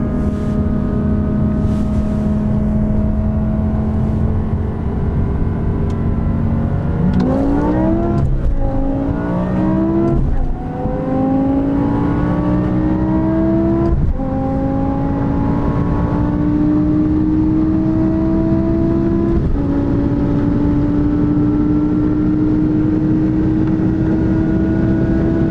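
A BMW M5 V10 and a Ferrari F430 pull hard from 50 km/h, their engines rising in pitch and snapping through several upshifts, loud and close, with no voices.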